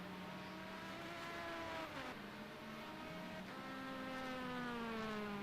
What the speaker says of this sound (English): Two BMWs going at it right now.